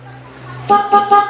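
A hum gives way to three short, loud horn beeps in quick succession, close by, from a dual contact horn on a Honda ADV 160 scooter.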